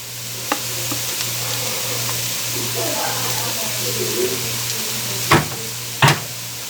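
Tomato paste frying in a pot for beef pot pie gives a steady, close sizzle with soft stirring scrapes throughout, then a couple of sharp utensil knocks near the end.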